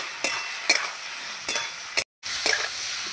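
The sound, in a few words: stirring curry masala with elephant foot yam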